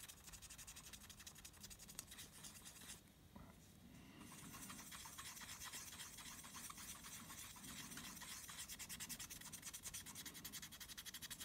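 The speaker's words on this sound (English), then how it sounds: "I'm just going to clean the top of the PCH, make sure there's no paste left on it, and I'm going to clean the heat sink as well" Isopropyl alcohol being wiped over the PCH chip of a 2009–2012 Mac Pro to clear away old thermal paste, a steady close rubbing and scrubbing that runs with a brief pause partway through.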